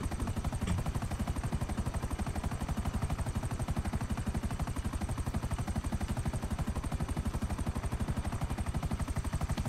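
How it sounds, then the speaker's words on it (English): Helicopter rotor chopping alongside rapid gunfire in the video game GTA 5, a loud, dense and steady pulsing barrage that fills the whole stretch without a break. "At least my chopper is moving faster than their choppers"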